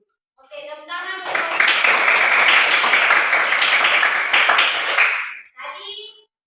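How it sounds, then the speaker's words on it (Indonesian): A classroom of students bursts into loud, dense applause of roughly four seconds, framed by a teacher's voice speaking just before and after. "Oke, tepuk tangan."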